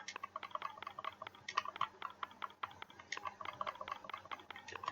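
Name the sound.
typing on a keyboard into a search box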